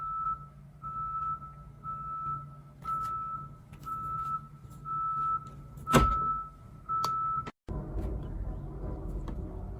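Steady electronic beeping repeats in a regular on-off pattern, about one tone every second, underneath a low background hum, with a few knocks and a brief cutoff near the end; no one speaks.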